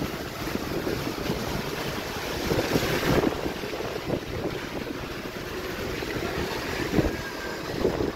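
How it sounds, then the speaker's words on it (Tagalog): Strengthening wind of Typhoon Uwan in San Juan, Metro Manila, blowing as a continuous rough rush with gusty surges and buffeting across the microphone, moderately loud throughout, with no speech. "Medyo lumalakas na yung hangin."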